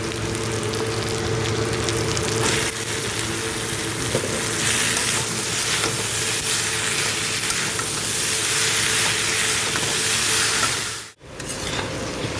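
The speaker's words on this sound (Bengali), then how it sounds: "মশলাটা কষানো হয়ে গেছে, এবার সিদ্ধ করে রাখা বাঁধাকপিটা দিয়ে দিচ্ছি" Boiled cabbage tipped into spice masala frying in a pan, a dense, loud, continuous sizzle and hiss up close with faint stirring, ending in a brief drop near the end before resuming; nobody talks.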